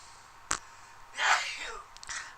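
A single soft, breathy sneeze bursts out after a brief sharp intake, faint and close, with a small trailing exhale in an otherwise quiet room.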